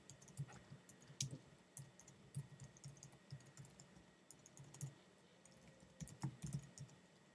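An email address is typed on a computer keyboard, producing quick irregular clicks and key taps in short bursts, close and fairly quiet, with no one speaking.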